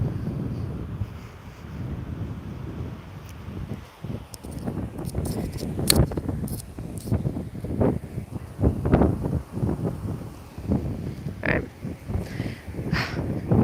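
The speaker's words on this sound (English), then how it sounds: "This wind is amazing today." Strong wind buffets an outdoor microphone in a continuous, gusty rumble with a few brief higher rustles, loud and close, and no one speaks.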